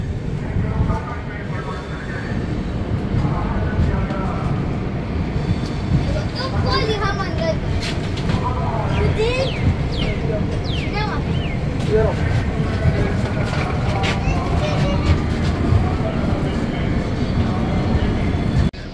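The Rupasi Bangla Superfast Express (12883) pulls into Purulia railway station, a loud, continuous rumble of the train with squeals and clanks through the middle, while people talk nearby.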